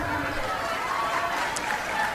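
Audience applause at the Miss N'Zassa 2018 beauty pageant at the Palais de la Culture in Treichville, Abidjan: a steady, dense wash of clapping from a large hall crowd with murmuring chatter, continuous and even throughout.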